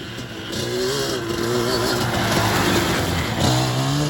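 A Yamaha Banshee ATV riding by outdoors, its engine droning loud and steady with wavering pitch as it passes close.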